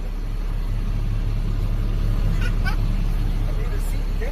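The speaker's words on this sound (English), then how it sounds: "Here comes the bus." A bus rumbles in and approaches on a street, a low steady engine drone with faint brake and air hiss sounds, heard under background chatter and nearby voices.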